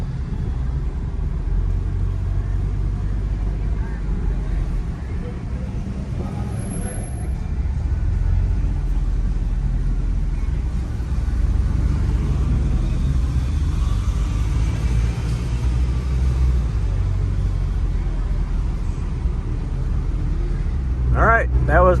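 Cars cruising through downtown Lexington on a Halloween-themed Tuesday night, heard from inside a moving vehicle as a steady low engine and road rumble throughout, with a brief higher sweep near the end.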